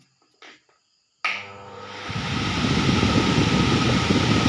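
A repaired high-speed table fan is switched on after a brief click and quiet, then spins up into a whirring motor hum and airy rush that grows steadily louder and holds near the microphone.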